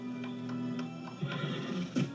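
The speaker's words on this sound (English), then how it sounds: "take care of the horses." A horse whinnies in a short, wavering neigh over a steady background hum, with a couple of brief louder bursts near the end.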